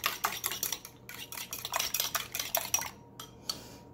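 Keto pancake batter with cinnamon whisked in a bowl, a quick run of close, rhythmic scraping clinks that slows to a few last strokes, with no talk.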